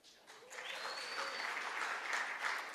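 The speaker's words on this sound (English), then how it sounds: "I know that you're gonna be clapping." Audience at a Maryland arts event breaks into steady applause, rising quickly after a brief quiet start and holding as a sustained, moderately distant wash of clapping, with a faint whistle-like tone early on.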